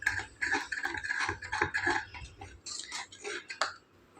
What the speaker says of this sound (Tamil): அதுக்கப்புறம் திருப்பி அடுப்பை ஆன் பண்ணிவிட்டு 1 நிமிஷம் கிளறணுங்க